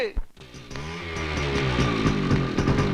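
Motorbike engine revs up loudly and holds a steady buzzing drone close by, with a brief voice at the start.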